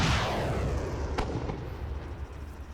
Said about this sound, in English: you're going to see the MLRS,